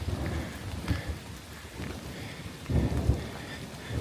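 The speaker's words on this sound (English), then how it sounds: "That's the thunder I'm talking about." Thunder rumbling low through a steady rainstorm on the Appalachian Trail, with a deep swell near the end over continuous rain hiss, no voices.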